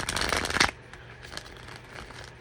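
Tarot cards being shuffled, a close rapid riffling burst for about the first second, then quieter light handling sounds, with no talk.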